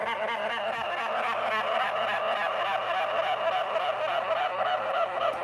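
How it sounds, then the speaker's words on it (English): Sugar gliders being woken make a dense, continuous chorus of honking, chattering calls, loud and close, filling the whole stretch without pause and with no talking over it. "let's wake up the sugar gliders"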